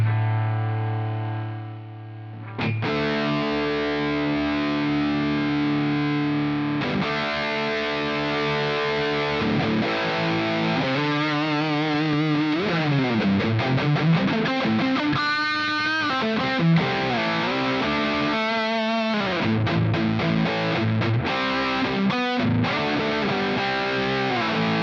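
Heavily distorted electric guitar played through Quad Cortex amp captures, loud and close, with sustained chords, single-note runs and sliding bends, and no talking.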